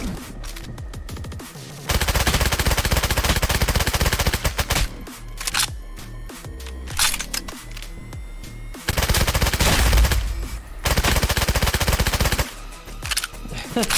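Rapid bursts of SMG fire in the video game Contractors Showdown come in loud, dense volleys separated by short pauses, with sharp repeated shots close up.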